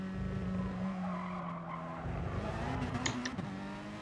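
A race car in GT Sport brakes hard into a corner, its tires skidding and squealing over the engine as the driver drops through the gears, close and loud.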